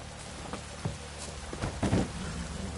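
A rain downpour in the video game The Witcher 3 hisses steadily at close range, with a few louder splashes and drips standing out over the constant wash.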